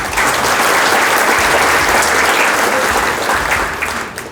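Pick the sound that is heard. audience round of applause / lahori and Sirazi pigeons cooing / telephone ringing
audience round of applause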